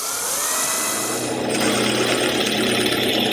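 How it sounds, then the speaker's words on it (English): A power drill bores a pilot hole into plywood for a wall-mounted tool chest, a steady whirring motor that rises in pitch and intensity partway through, loud and close with no talking. "now I'm going to use a drill bit to do a pilot hole in the plywood"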